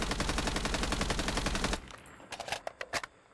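Rapid automatic gunfire from a mobile shooter game running on the Gameloop emulator rattles in a dense burst, then breaks into a few separate shots before fading out.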